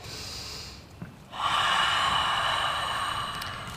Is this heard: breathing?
yes